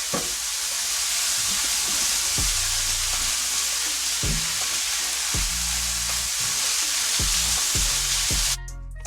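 About 12 ounces of frozen spinach sautéing in a pan, a steady loud sizzle with occasional soft thumps and scrapes of stirring, then a sudden change near the end.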